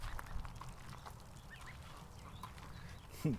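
Ducks on a farm give soft, scattered quacks and honking calls close by, faint against a rumbling, breezy outdoor background, with one sharper call near the end.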